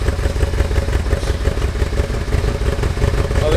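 A 2009 Yamaha Royal Star motorcycle engine runs steadily at idle just after starting, a close, even, pulsing rumble with light mechanical clatter and no revving, moderately loud.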